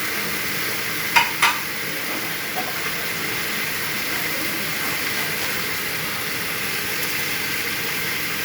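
Goat head curry with turmeric and salt is stirred in a pan, a steady sizzling hiss throughout with a couple of brief scraping knocks near the start, fairly close and without talk.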